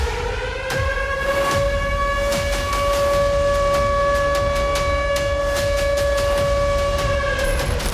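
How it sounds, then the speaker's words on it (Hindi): An air raid alert siren sounds in Isfahan, Iran: a loud, sustained, steady wail that holds for the whole stretch with a rough rumble beneath it. "धमाके के साथ ही इस्फहान में अलर्ट सायरन गूंजने लगे।"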